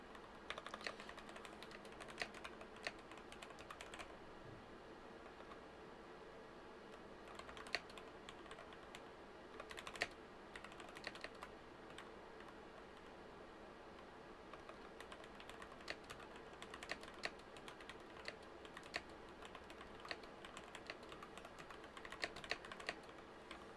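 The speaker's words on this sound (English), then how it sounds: "I'm not even typing right, man." Steady typing on a computer keyboard at a study desk, a continuous patter of key presses with occasional louder clacks, close and alone with no talking.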